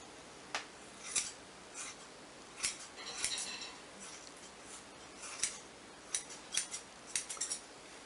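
Scissors cutting one's own hair, a steady series of crisp close snips in irregular clusters, with no talk.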